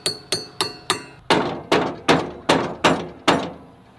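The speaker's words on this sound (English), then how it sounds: "I need a hammer." A hammer taps repeatedly during a children's farm tractor repair, giving ten sharp, close metallic knocks at a steady, slightly quickening rhythm, the later strikes fuller and heavier.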